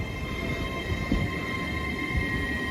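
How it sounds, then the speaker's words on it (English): Great Western Railway class 800 unit 800 302 departs Didcot Parkway on a Hereford to London Paddington service, a steady rolling rumble with wheel squeal tones and occasional clunks, close and continuous. "finally going is 800 302, forming the very late 1544 Great Western Railway service to London Paddington from Hereford"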